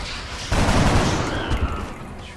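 Soldiers firing weapons in XCOM: Enemy Unknown, a loud continuous burst of gunfire starting after a brief lull and holding steady for about two seconds, with no talk.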